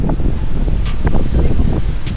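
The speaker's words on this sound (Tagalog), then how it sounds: "super lakas ng hangin. Puro hangin lang, walang ulan." Strong typhoon wind without rain in Vigan City buffets the microphone as a steady, loud low roar with rustling gusts throughout.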